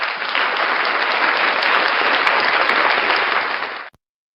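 Audience applause on a live morning show: a loud, dense burst of clapping from many people, sustained evenly for nearly four seconds before cutting off abruptly.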